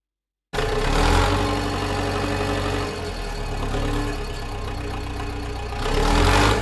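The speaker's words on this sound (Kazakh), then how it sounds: "Трактор." A farm tractor engine runs steadily at close range, a loud continuous low rumble with a brief dip in the middle before swelling again, with no talking.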